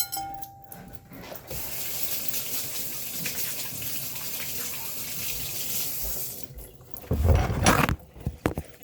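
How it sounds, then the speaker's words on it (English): A kitchen tap runs steadily into a sink while hands are washed, a continuous close splashing rush that ends with louder thuds and clatter near the end. "I'm going to wash my hands."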